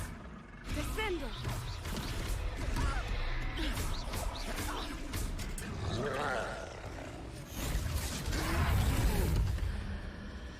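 A troll is slammed down by a spell in a Hogwarts video game battle, with heavy crashes, roars, grunts and magical whooshes over a dense layered soundtrack, building to a loud impact near the end.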